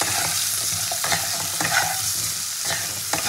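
Potato, green banana and carrot pieces fry in a pan, a steady close sizzle broken by repeated stirring scrapes and clacks throughout.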